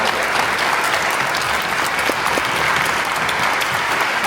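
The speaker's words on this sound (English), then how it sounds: "I'd like a round of applause" An audience at a youth mentorship event applauds, a dense, steady wash of many hands clapping for several seconds, loud and continuous with no talk.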